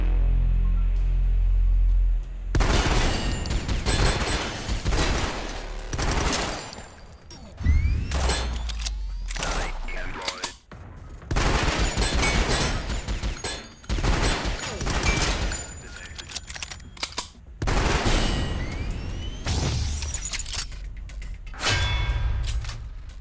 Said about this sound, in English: Time for me to grenade all my problems like I'm used to.